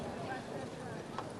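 Horses' hooves clattering on the packed-earth track of the Palio race in Siena, a steady rapid clip-clop of galloping horses, mid-distance, under a crowd's roar with an announcer's voice talking over it.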